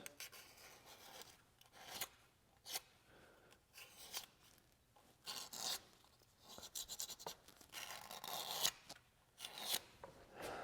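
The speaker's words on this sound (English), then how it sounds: "just kind of go across the gasket surface with a razor blade" A razor blade scrapes old gasket material off an aluminum sealing surface on a GM 1.4L turbo engine's cooling housing, giving repeated short rasping strokes in uneven bursts, fairly quiet and close with no talking.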